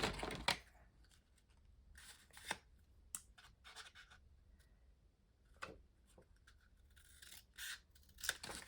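Scissors cut through paper to trim a scrapbook banner, giving a series of close, soft snips and crisp rustles in irregular bursts with quiet pauses between them.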